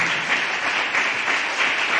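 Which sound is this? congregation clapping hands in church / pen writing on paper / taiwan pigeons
congregation clapping hands in church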